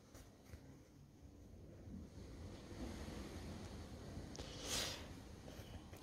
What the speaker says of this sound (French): Je sais pas si vous entendez le vent. On a beaucoup de vent.